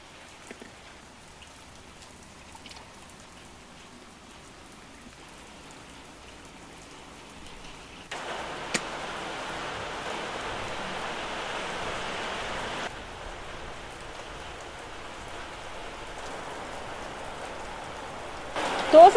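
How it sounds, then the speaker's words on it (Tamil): Heavy rain pouring down outdoors, a steady dense hiss that swells suddenly and holds, continuing without talk over it. "எப்படி மழை பெய்யுது, நல்ல மழை பெய்யுது இங்கே"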